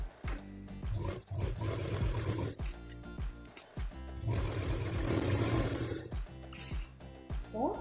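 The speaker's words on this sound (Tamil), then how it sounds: "இந்த மாதிரி ரெண்டையும் சேர்த்து பிடிச்சிட்டு இங்கே இருந்து இங்கே வரைக்கும் 2 தடவை ஸ்டிச்சஸ் போட்டுக்கலாம்." Domestic sewing machine stitching a seam along a zippered school pouch in a home setting, running in bursts of steady whirring with brief pauses between runs, close and fairly loud.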